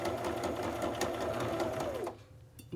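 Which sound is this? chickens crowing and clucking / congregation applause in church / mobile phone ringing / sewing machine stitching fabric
sewing machine stitching fabric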